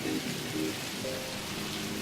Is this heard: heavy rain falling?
yes